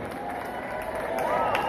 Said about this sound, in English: that really deserves a big round of applause